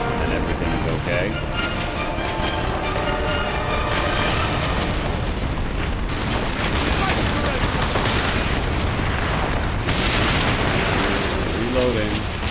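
Dense, continuous battle noise from Warhammer 40k Space Marine, with gunfire against orcs mixed into booming explosions and heavy action sounds, loud throughout with no pauses.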